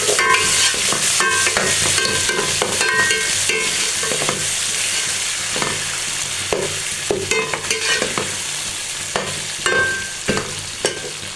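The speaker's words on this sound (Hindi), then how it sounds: "ये देखिए मैं प्याज फ्राई करती हूँ" Onions frying in a hot pan with spice paste, a steady crackling sizzle running throughout, broken by repeated scraping clinks of a spoon stirring against the metal, close and fairly loud with no talking.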